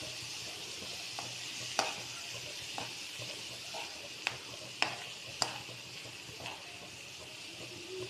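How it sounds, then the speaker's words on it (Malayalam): Cooked clam meat being stirred and fried in a pan makes a steady soft sizzle, broken by a few sharp scrapes and clicks of a spoon against the pan. "ഇനി ഇതിലേക്ക് നമ്മൾ വേവിച്ച് വെച്ചിരിക്കുന്ന കക്കയിറച്ചി ഇട്ട് കൊടുക്കണം. ഇതെല്ലാം കൂടെ മിക്സ് ചെയ്യാം."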